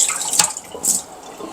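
Tap water runs and splashes steadily after a whole-house water filter replacement, a close hissing flow with a couple of brief brighter spurts.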